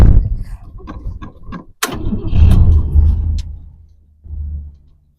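A 1967 Lincoln engine with a carburetor and choke cranks briefly, catches with a loud burst, then settles into a rough, close rumbling idle that fades before a second short rev.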